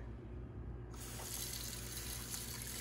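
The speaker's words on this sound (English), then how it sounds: "Next, we turn on the water." A kitchen tap is turned on to rinse dishes, and the water gushes steadily into the sink after a short quiet start. It is close and continuous, with no talk.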